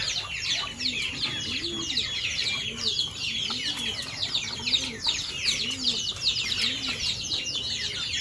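Soft, repeated cooing of half-sider mosaic pigeons rises and falls in a steady rhythm over a busy chorus of chirping birds, with a voice faintly present.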